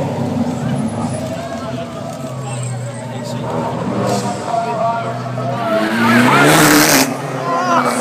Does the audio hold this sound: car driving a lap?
yes